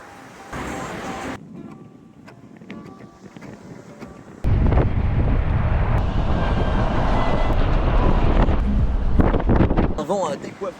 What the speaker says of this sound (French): Un vent à décoiffer Yalou.